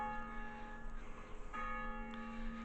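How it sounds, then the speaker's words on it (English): The church bell at St Wilfrid's in Melling rings out, sustained metallic tones hanging in the air, then a fresh strike about halfway through, heard at a moderate distance with no voices. "there goes the bell"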